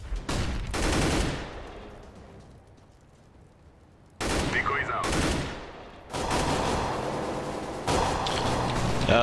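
Bursts of automatic gunfire from a CS:GO match, several loud rapid volleys separated by brief pauses, close and dominant, with one long sustained stretch of firing and a short quieter gap in the middle.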